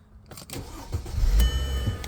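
A Mercedes-Benz R350 fitted with a Landi Renzo gas conversion cranks and its engine starts, building from a short whirring crank into a steady low rumble at close range, with no voices.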